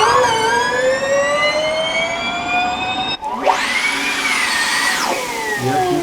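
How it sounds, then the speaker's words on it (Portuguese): A 2018/19-season Formula E race car's electric motor whines at a high, steady pitch, then a second whine sweeps sharply upward, holds and drops away as the car passes, loud with no talking. "Então a gente nota um motor mais agudo aí, né?"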